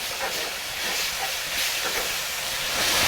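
Duck pieces stir-fry in a pan over moderate heat in their own fat with no added oil, for a gochujang duck dish; a steady, close sizzling hiss runs throughout.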